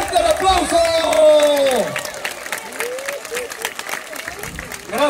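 A rodeo crowd at a jaripeo in Turicato, Michoacán claps and cheers loudly, while an announcer talks over the applause through a PA and a brass band plays underneath.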